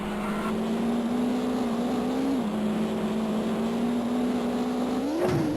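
Racing car engine in the N64 game Top Gear Rally, driving through a blizzard in Ecuador: a steady, loud droning engine note held nearly constant, with a brief pitch dip and a quick shift near the end, no talking.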